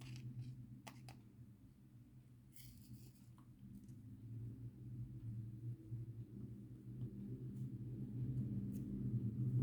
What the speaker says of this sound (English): We have traffic galore out there.